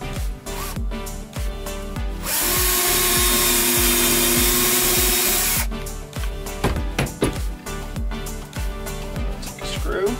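A power drill cuts a hole into a wooden RV cabinet with one loud, sustained whir lasting a few seconds, framed by clattering handling and tool knocks before and after.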